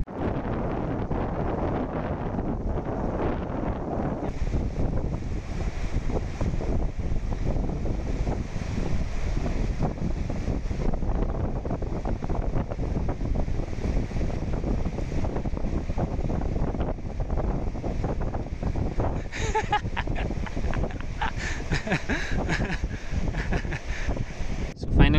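Steady broadband rush of the Kakti Nala and Bhaga River flowing at a high-altitude crossing, heavy wind buffeting close and loud throughout, with a brief brighter splash near the end.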